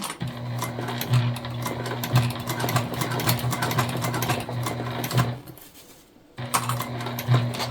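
A sewing machine top-stitches a tote bag from the inside in a steady, fairly close mechanical hum with rhythmic ticking, stopping briefly for about a second before starting again.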